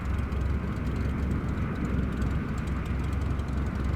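Aircraft engine in Microsoft Flight Simulator 2024, a loud, steady, dense droning roar with no change in level, heard alone with no talk.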